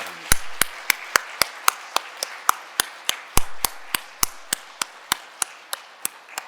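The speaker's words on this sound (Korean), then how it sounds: "이런 큰 박수로 감사합니다, 또 격려합니다 보여주시기 바랍니다" A church congregation claps at a Sunday service in steady, evenly spaced beats, about three sharp claps per second for several seconds, close and distinct with no talk over them.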